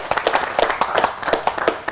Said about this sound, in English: I think everyone should give themselves a round of applause for being here.